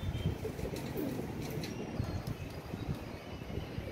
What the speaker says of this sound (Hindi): पता नहीं लगता ये कौन सा कबूतर है, ये कौन सा कबूतर है।